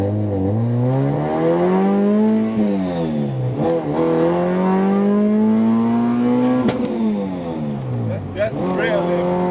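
A Honda Civic with an all-motor H23A engine revs hard on a street pull, its loud, steady engine note climbing and briefly dropping at each shift, close and continuous; a voice speaks briefly.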